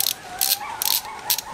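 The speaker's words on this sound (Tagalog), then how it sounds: "Ito yung ratchet mechanism." A Hans torque wrench's ratchet mechanism clicks in four quick bursts of sharp, bright ticks, loud and close, with a faint metallic ring between them.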